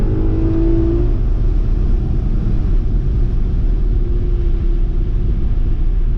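A 500 hp sports car accelerates hard to 145, a loud steady roar of engine and road noise inside the cabin, with a rising whine briefly at the start.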